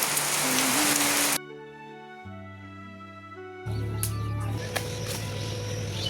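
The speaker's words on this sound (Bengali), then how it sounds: "দুপুরবেলা বৃষ্টি চলে" Dense, steady patter of falling rain, broken in the middle by a stretch of music before the rain noise returns.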